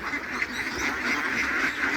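A flock of three-month-old ducks, just let out of the pond where they are usually kept, quacking in a steady, dense chorus close by, with no pause across the whole stretch.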